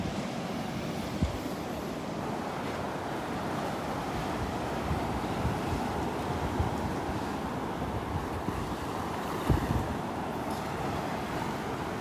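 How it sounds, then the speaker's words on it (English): Ocean waves washing onto the beach at Delnor-Wiggins on a morning walk, a continuous rolling surf roar with gusts of wind buffeting the microphone and a couple of soft thumps, no voices. "Some nice waves out there."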